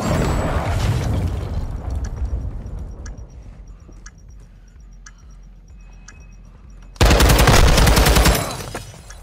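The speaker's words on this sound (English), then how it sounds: "Hostiles launched a cruise missile." A cruise missile strike in the video game Call of Duty Modern Warfare 2 ends a stretch of distant rumbling and faint beeps with a sudden, very loud, close blast that roars for about a second and a half before cutting off.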